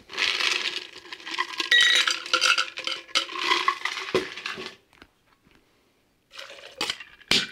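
Ice cubes tumble and clink into a mixing tin for a gin Aviation cocktail, a busy run of bright rattling knocks that stops, then a few more sharp clinks near the end.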